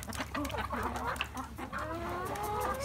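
Chickens cluck and squawk in a barn, crowding close around at feeding time. Busy overlapping calls carry over the rustle of the birds moving, with a faint voice in the background.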